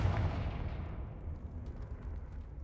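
A Confringo spell explosion in Hogwarts Legacy: a deep, rumbling blast opens loudly, then decays into a low rolling boom that lingers and fades over a couple of seconds.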